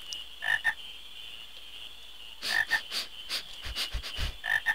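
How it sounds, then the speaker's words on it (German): Frogs croaking in the video game Final Fantasy IX, with short bursts of croaks in small clusters separated by quieter gaps over a steady background tone, no talking. "hier gibt es Frösche"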